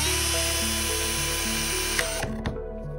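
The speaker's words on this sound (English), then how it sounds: "drill a hole." A drill whines steadily at close range, boring a hole to start a fan cutout in a mini ITX PC case, its pitch dropping as the bit bites in, then it cuts off with a few clicks.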